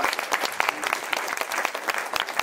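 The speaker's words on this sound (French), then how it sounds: "Alors on peut l'applaudir une dernière fois quand même" An audience applauds at a cabaret evening, a dense, steady patter of many hands clapping close by with a few sharper individual claps standing out, continuing without a break for the whole stretch.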